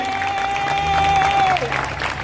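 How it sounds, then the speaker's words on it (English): A protest crowd in Cambridge claps and cheers, steady loud applause with a sustained voice or whistle rising above it before tapering. "You deserve your own round of applause for coming to this and standing up."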